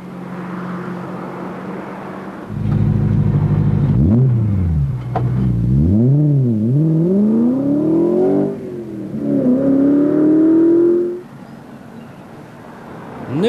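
A BMW M3 sports car engine roars and revs hard, pitch climbing and dipping through several gear changes, loud and close, then dropping away to a quieter idle.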